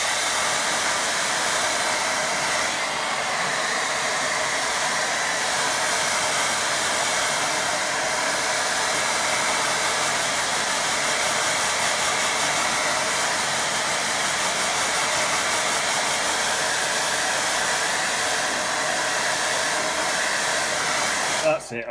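A hair dryer blows steadily on a watercolour painting, a loud continuous whirring hiss that holds unchanged for over twenty seconds before cutting off abruptly at the end, with no voices.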